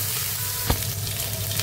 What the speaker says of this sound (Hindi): अब हम इसमें डालेंगे जिंजर गार्लिक का पेस्ट और इसको भी अच्छी तरीके से सौते कर लेंगे।